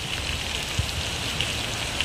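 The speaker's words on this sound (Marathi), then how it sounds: "तर काय पाऊस काय थांबत नाही ना" Light, steady drizzle falls outdoors near a muddy riverside beach in Badlapur, making a constant soft patter with a few louder drops.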